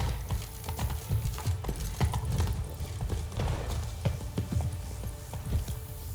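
Roach the horse galloping in The Witcher 3, a rapid irregular drumming of hooves, close and continuous, with faint clatter mixed in.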